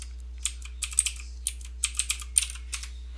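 Someone types a spreadsheet formula on a computer keyboard: quick, crisp keystrokes in small irregular bursts, close by, over a low steady hum.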